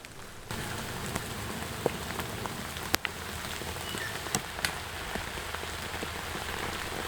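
Heavy rain pours down at a solo camp, a dense, constant hiss of drops on surfaces with a few sharper nearby splats and taps, no speech.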